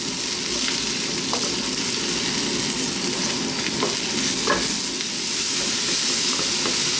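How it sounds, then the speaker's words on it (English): Sliced white mushrooms fry in a pan, releasing moisture in a steady, moderate sizzle and hiss with occasional faint crackles and pops throughout, no voices. "A little bit of moisture that you can hear coming from the shrooms."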